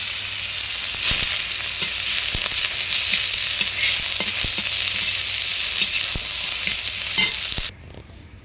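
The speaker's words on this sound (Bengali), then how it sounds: "এবার পেঁয়াজগুলো ভেজে উঠিয়ে নেব।" Onions frying in oil in a pan hiss with a steady, bright sizzle, broken by regular spatula taps and scrapes, before the sound cuts off abruptly near the end.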